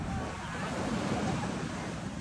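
Sea waves roll onto the beach at San Felipe, Zambales in a steady, broad wash of surf, with wind buffeting the microphone throughout and no clear voices.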